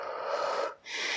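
A person exhales forcefully during a HIIT cardio workout at home: two strong, breathy gusts of air, the first long and the second shorter after a brief gap, close and alone.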